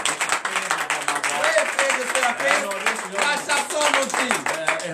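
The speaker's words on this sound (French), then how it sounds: "Donnez une vive acclamation à l'Éternel." A worship congregation claps in acclamation during a morning prayer, a steady rhythmic clapping beneath loud voices speaking and singing.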